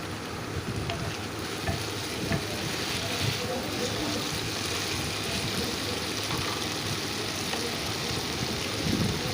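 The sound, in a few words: stirring stuffed potatoes for aloo dum in a pan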